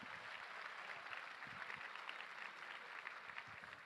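A luncheon audience applauds donors, a continuous wash of clapping from many hands, steady and fairly distant throughout.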